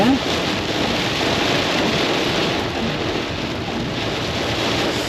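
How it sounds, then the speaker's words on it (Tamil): Heavy downpour heard during a road trip toward Varkala, a dense steady hiss of rain, continuous and fairly loud with no break. "சரியான மழை"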